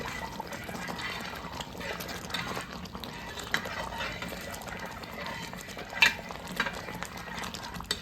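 A pot of thickening aravana payasam, with ghee added, is stirred. It gives a soft, continuous bubbling and scraping at low volume, with a few sharper knocks of the spoon, and no voice.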